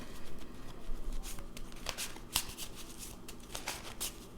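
Tarot cards shuffled and drawn in a quiet room, a steady run of soft papery riffles and slides with sharper flicks as cards are pulled out, close and alone with no talk.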